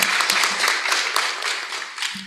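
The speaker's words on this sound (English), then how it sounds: "We deserve a clap for us because we produce the food" Audience at a youth forum on farming and food claps for the farmers among them, a lively burst of many sharp hand claps, moderately loud and steady before easing off.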